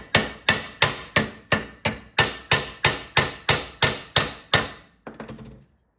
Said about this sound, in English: You could do it on your concrete floor and a hammer and make a curve.